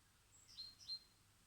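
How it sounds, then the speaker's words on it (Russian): A small bird outdoors on a cold summer day in Belarus gives two short, high chirps a moment apart, faint and distant over a quiet background. "Вон птичка."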